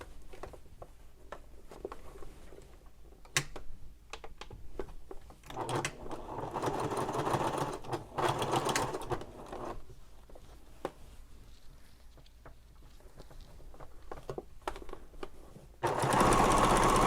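Close, uneven bursts of a sewing machine topstitching a messenger bag toward a pocket piece near a thick ring connector, starting and stopping, with a louder run at the end.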